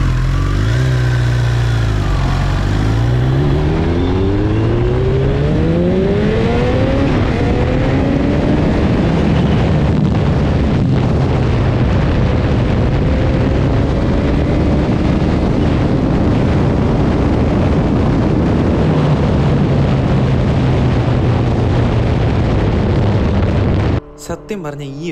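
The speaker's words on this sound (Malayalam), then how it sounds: "ഈ വണ്ടി പോയൊരു സ്പീഡിലുണ്ടായിരുന്ന കാറ്റും അതുപോലെ തന്നെ നമ്മുടെ എന്താ പറയുക എക്സോസ്റ്റിൻ്റെ ഒരു സൗണ്ടും" A Kawasaki H2 SX motorcycle accelerates through the gears, its exhaust note sweeping upward with each shift while heavy wind noise buffets and overloads the microphone, loud and continuous for about twenty-four seconds before cutting off.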